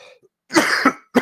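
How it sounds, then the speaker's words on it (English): A person with a dry throat coughs close to the microphone: a faint throat sound, then two harsh coughs in quick succession and one more after a short pause, with no talking. "I get like a dry spot in my throat and I have to keep coughing."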